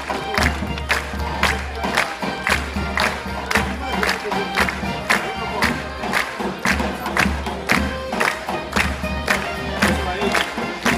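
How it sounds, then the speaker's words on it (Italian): An outdoor crowd claps in a steady, rhythmic beat along with an Arbëreshë folk group performing at Luzzi, accompanied by a low sustained drone and some crowd noise and shouts, loud and continuous. "E l'applauso, signori, anche a questi meravigliosi musicisti."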